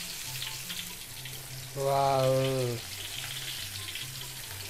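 Food fries in overheated oil in a wok-style pan, a steady close hiss and crackle running throughout, briefly interrupted by a short spoken exclamation.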